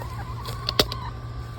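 A few soft, scattered clucks from chickens being fed cucumbers in a garden, over a steady low hum, one brief sharper call standing out near the middle.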